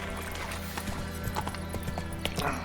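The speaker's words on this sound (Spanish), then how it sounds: "Vamos a ver si el caballo sigue el paso solo." Horse hooves clip-clop at a steady walking rhythm in The Witcher 3 video game, close and clear over a faint background hum.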